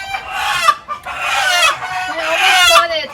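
Chickens on a homestead cluck in repeated close, loud bursts, with a rooster crowing among them near a new chicken coop; a faint voice sits underneath.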